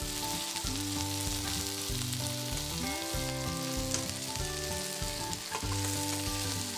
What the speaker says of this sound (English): Brown the oysters and flip them over.